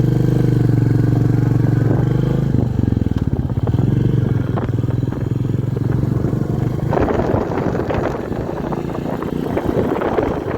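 A Royal Enfield Goan Classic 350 single-cylinder motorcycle engine thumps steadily and loudly while riding, with wind buffeting the microphone and a shift in engine note partway through.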